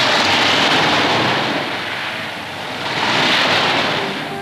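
Surf washing and breaking against a rock, a broad continuous roar that swells and eases in two slow surges, with wind rushing across the microphone.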